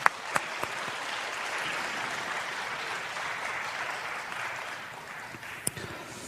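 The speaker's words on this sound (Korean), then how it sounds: "우리 박수하겠습니다." A congregation at a young adults' church worship service claps steadily after a rap performance by the multimedia team, a moderately loud and even wash of applause with a few sharper individual claps standing out.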